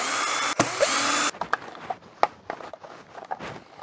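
A power screwdriver whirs briefly while screws come out of a discarded appliance being dismantled for its motor, followed by a string of close clicks, knocks and handling sounds from tools and plastic parts.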